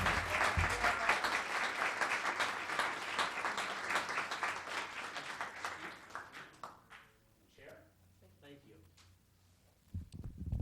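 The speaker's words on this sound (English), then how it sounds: "Let's give them one more round of applause." Audience applause at a Los Gatos town council meeting in a chamber, dense for about six seconds before tapering off into scattered claps and voices.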